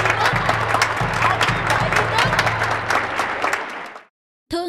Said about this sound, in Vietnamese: tiếng dân làng, tiếng reo hò, tiếng chuồng trống lớn quá